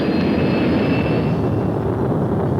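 A Lockheed SR-71 runs its two jet engines at maximum thrust on takeoff, giving a loud, continuous roar with a high whine that stays steady throughout.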